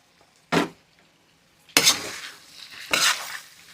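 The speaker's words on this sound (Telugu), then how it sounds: "ముక్క మాడనివ్వకండి, చక్కగా ఇలా తిప్పుకుంటూ ఉండండి." Chicken fry pieces being stirred with masala in an iron kadai for biryani: three distinct scraping strokes of a spoon against the pan, each followed by a brief sizzle, close and clear with no talk.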